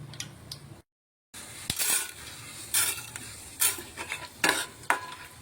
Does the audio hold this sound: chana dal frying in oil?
yes